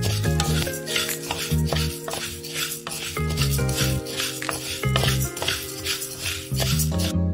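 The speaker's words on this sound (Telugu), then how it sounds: "దీంట్లో కొరియాండర్ సీడ్స్ వేసుకున్నాను. చక్కగా డ్రై రోస్ట్ చేసేసుకున్నాను." Coriander seeds dry roasting in a wide pan on the stove, stirred with a utensil that scrapes and rattles rhythmically against the metal, with a faint crackle and seeds rustling.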